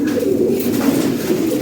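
Fancy pigeons cooing close by, a low continuous throaty burble with soft rising and falling pulses.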